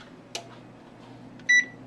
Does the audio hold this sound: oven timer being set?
yes